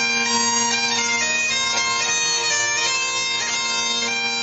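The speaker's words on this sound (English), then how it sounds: "I'm going to play you bagpipe songs, versions of songs you know." Bagpipes drone steadily beneath a bright, reedy melody playing a familiar pop song, loud and continuous with no voices.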